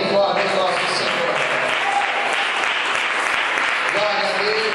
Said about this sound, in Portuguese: vamos aplaudir bem forte o nosso Senhor